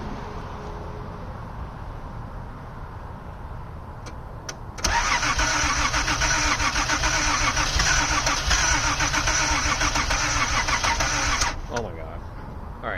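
A 1979 Datsun 280ZX engine running rough after injector replacement, idling unevenly, then jumping into a loud sustained high rev for several seconds before dropping back toward idle.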